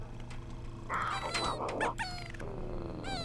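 A toy in The Sims 1 video game giving out dog-like yips, whines and short barks in a quick burst, with soft game background tones under it.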